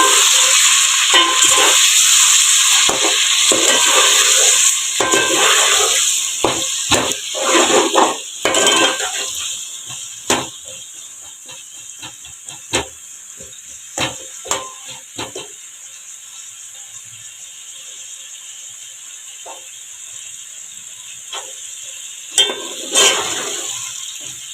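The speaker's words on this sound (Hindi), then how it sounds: "अब हम इसमें आलू फ्राई करेंगे।" Potatoes frying in a pan for aloo pulao, a steady bright hiss of oil under repeated clinks and scrapes of a spoon against the pan, busy at first and then thinning to occasional stirring knocks.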